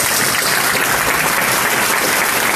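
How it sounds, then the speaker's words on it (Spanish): Steady, dense applause fills a political meeting after an election review, continuous and fairly loud throughout with no break. "Fuerte voto de aplauso."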